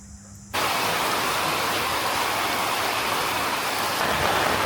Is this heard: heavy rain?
yes